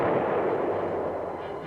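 Heavy battlefield gunfire with an M-60 Patton tank in action: a loud, sustained blast and roar that fills the moment and trails off slowly.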